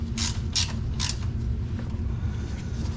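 Ratcheting clicks of a socket wrench tightening an alternator bolt on a 1997 Mercedes S500 W140, three quick close bursts early on over a steady low engine-bay hum, then quieter.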